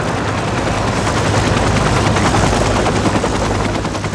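A rescue helicopter passes over a mountain glacier, its dense, rapid rotor chop loud and steady, filling the air with no pause.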